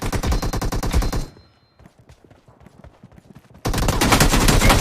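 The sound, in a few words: gunfire in PUBG Mobile video game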